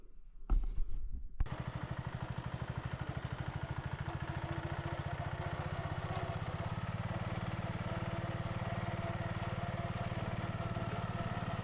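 A 1970 John Deere 110 garden tractor clatters and catches, then its engine settles into a steady, even chugging run that holds for about ten seconds.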